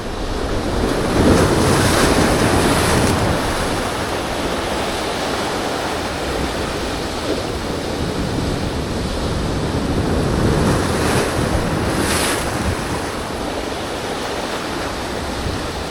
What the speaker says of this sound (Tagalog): so hindi ko pa alam paano yung bangga ng mga alon